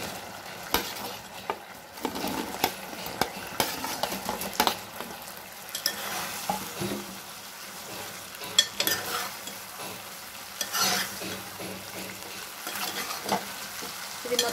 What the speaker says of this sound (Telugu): ఇప్పుడు ఇందులో ఈ బాల్స్ వేసుకొని కలుపుకోవాలి